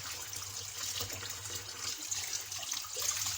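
Tap water runs steadily over mumbar sausage casing being rinsed clean by hand under the faucet, a continuous close splashing trickle with slight shifts as the casing moves.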